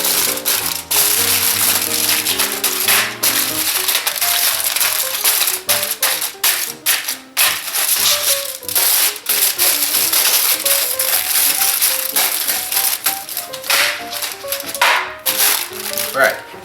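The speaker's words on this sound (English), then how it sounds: "I'm gonna actually cover this cooling rack with this aluminum foil." Aluminum foil crinkles and crackles continuously as it is pressed over a cooling rack in a kitchen, a dense, busy rustle with scattered taps and clinks that runs throughout.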